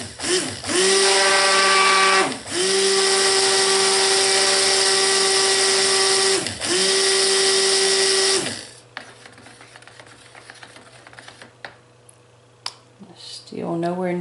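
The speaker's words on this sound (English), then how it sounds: "you want to try to resist pulling the stick blender out of the mixture and putting it back in" A stick blender whirs loudly through lard soap mixture in long, steady bursts with short dips where it pauses, then cuts off, leaving quiet handling noises and a brief final buzz.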